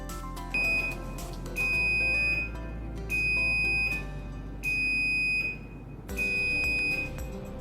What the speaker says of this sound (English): The opener will beep and the lights will flash slowly 5 times.